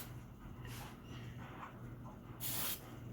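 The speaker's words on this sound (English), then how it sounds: "Make sure you spray, and I mean lots and lots of spray." Hairspray sprays onto rolled cheer hair in a few short hissing bursts. The longest, loudest burst comes near the end, and a quiet room sits between the bursts.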